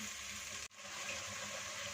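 Water pours steadily into a cooking pot while preparing black chana saag, a continuous close gushing splash with one brief break before it resumes.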